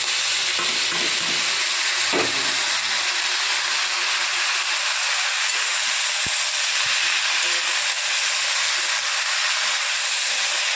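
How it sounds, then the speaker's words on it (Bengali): Finely chopped spinach fries in peanut oil with salt and turmeric, a continuous close sizzle with occasional stirring scrapes and clicks throughout, no talking. "আর বাদামের যে তেলটা আছে, আমি ওটাতেই শাকটা দিয়ে দেবো, যাতে বাদামের তেলে শাকের টেস্ট হবে।"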